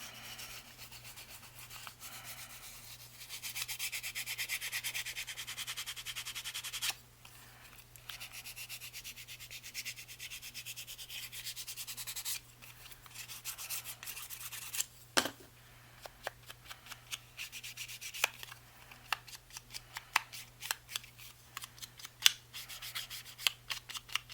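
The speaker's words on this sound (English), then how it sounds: "And then you can rub off as much or as little as you want." Fabric cloth rubbing ink off a 6x6 card, a steady close scrubbing that stops now and then, with scattered light taps and rustles toward the end.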